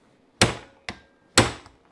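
Three sharp metallic hammer smacks from a small hammer striking a stuck carburetor part on a 1983 Yamaha XZ550RK Vision motorcycle, close and loud, the second blow lighter, each hit decaying quickly.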